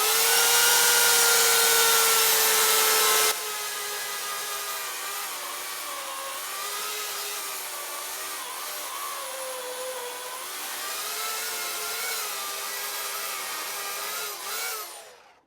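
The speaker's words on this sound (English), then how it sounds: "I'm going to use my Oregon electric self-sharpening chainsaw" A loud Oregon self-sharpening electric chainsaw motor whines steadily and bites into a log, its pitch wavering as it cuts, with no one talking.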